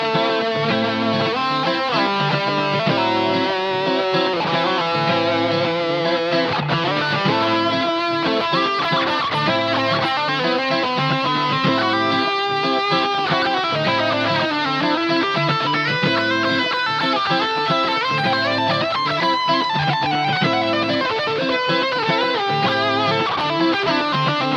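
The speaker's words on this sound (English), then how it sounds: "Let me use a distortion." A distorted electric guitar plays continuously, gliding between notes in a thick, sustained, overdriven tone with no voices.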